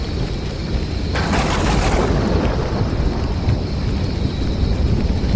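A thunderstorm roars with heavy, steady rain and wind, and a loud crack of thunder bursts in about a second in and rumbles off, used as a spooky backdrop in a ghost story.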